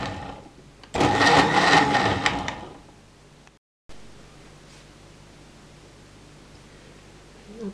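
Blender pureeing soft cooked plums with sugar, a loud dense whir running steadily for about two seconds, then dropping to a weaker hum before cutting off; a faint low background remains afterward.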